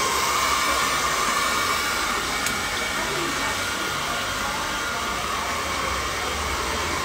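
A Babyliss hair dryer roars at full power, a loud, constant high-pitched blowing whoosh that holds steady from start to finish without voices.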